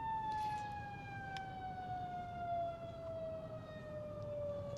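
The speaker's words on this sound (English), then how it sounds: "they got ambulance coming through here, so probably hear that in the background" An ambulance siren wails in the distance as it passes through a street, one long faint tone that slides slowly downward over a low background rumble of traffic, with no voices.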